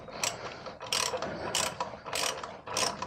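A hand ratchet clicks in four quick, evenly spaced bursts as it works loose the exhaust bolts on a Kawasaki Z900RS motorcycle, close and crisp, with a brief pause between each swing.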